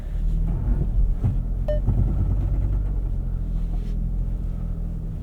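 A 2025 Nissan Rogue Rock Creek Edition on all-terrain tires climbs an off-road trail under steady throttle, producing a continuous deep rumble with occasional knocks and bumps from the terrain.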